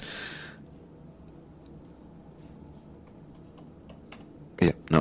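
Keys on a faulty computer keyboard are tapped: a few soft clicks, then two louder, close bursts of typing near the end, with a short voice at the start.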